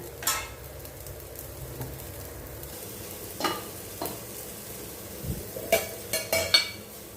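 Mustard seeds and urad dal frying in oil in a pan while being stirred: a soft steady sizzle under occasional scrapes and clinks of a spoon against the pan, growing busier toward the end, with no voices.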